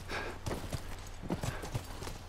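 Horse hooves clip-clop in The Last of Us video game, a quick run of several close, dull thuds over a low background hum.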